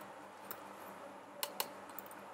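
A handful of light, sparse keystrokes on a computer keyboard while code is being written: faint clicks with two close taps in the middle, set against a quiet room hiss.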